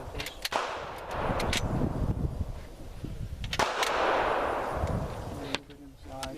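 Handgun shots ring out at an outdoor state forest shooting range, a few sharp, loud reports spaced irregularly over steady background noise, with other distant shots around them and people talking.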